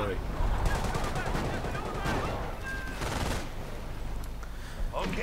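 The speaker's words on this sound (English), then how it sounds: "Lots of artillery going in on the packs." Artillery shelling and gunfire crackle through a Men of War multiplayer battle as German forces advance into a town, a dense continuous wash of distant booms and rattling shots with no clear gaps.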